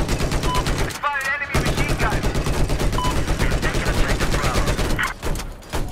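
Rapid automatic gunfire in Battlefield 4, a steady stream of close, loud shots with a brief pause partway through, layered with battlefield noise.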